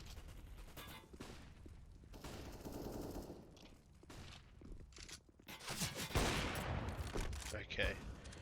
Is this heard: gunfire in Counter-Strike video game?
yes